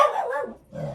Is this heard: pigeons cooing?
no